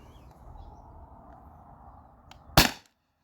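A single sharp shot from a Beeman BP50 Pierce Cap air pistol cracks out near the end of the clip, loud and brief above a low room hum.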